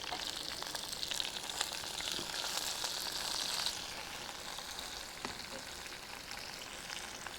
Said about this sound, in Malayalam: ഉള്ളി നന്നായി വഴന്നു വന്നിട്ടുണ്ട്.